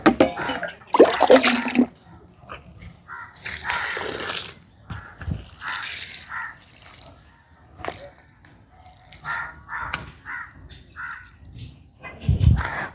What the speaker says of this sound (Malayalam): ഇനി നമ്മൾ ഇപ്പം തന്നെ ഒന്ന് ചെറുതായിട്ടൊന്ന് നനച്ചേക്കും കൊടുക്കൂട്ടാ.